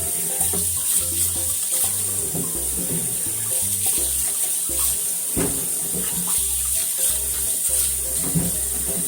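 Cucumbers are washed under a running tap into a sink, with the water pouring and splashing in uneven bursts and a few clunks, near and steady throughout, with no voices.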